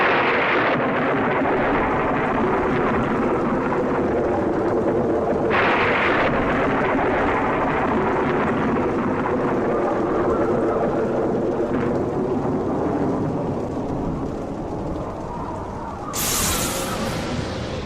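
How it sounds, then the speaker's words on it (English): Rumbling thunder rolls on and on beneath a constant roar of howling wind, a loud, dense storm with a few sharper bursts. "Louder and louder did the winds howl, and the thunder and lightning crackle."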